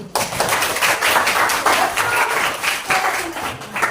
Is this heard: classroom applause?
yes